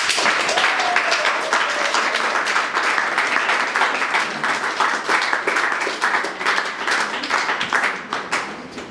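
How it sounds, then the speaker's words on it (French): Guests at a civil wedding ceremony in Cairo break into loud sustained applause and cheering, dense clapping that goes on throughout with voices mixed in. "acclamations"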